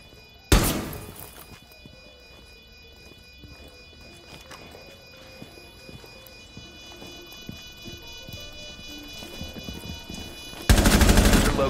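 Gunfire in Rainbow Six Siege, with a loud burst at the start and another sustained burst at the end, scattered thuds and clicks of a tense round in between, and no talking.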